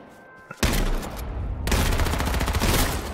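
Rapid gunfire rips through a video game firefight, a loud sustained fusillade of shots that rolls on without pause after a brief quiet start.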